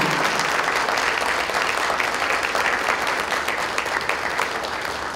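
An audience at an innovation forum opening ceremony in Gyeongsangbuk-do breaks into loud, dense applause, a continuous roar of many hands clapping that holds steady for several seconds, with faint crowd murmur beneath.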